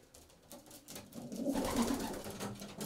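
Racing pigeons coo at a loft of young birds, a low soft warbling that swells after about a second and carries on steadily at moderate loudness, with no talking.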